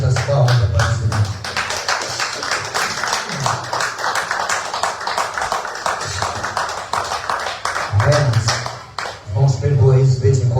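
A church congregation clapping in rhythm, fast sharp hand claps going on throughout while a voice talks and sings over them.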